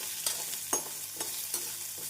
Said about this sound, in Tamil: மீடியம் ஃப்ளேமில் வெங்காயத்தை நன்றாக வதக்க வேண்டும்.